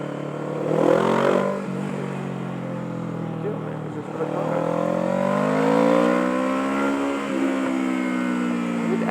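A car drives along a scooter lane, its engine hum rising and falling steadily close by with changing pitch as it moves, while someone talks over it.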